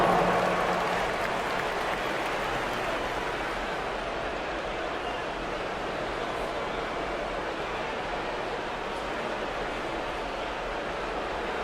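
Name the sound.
arena crowd applause at NBA basketball game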